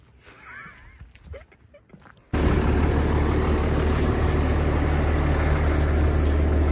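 A big farm tractor runs loudly at close range while spreading slurry, its steady heavy engine drone cutting in abruptly after a quieter opening of faint outdoor noise.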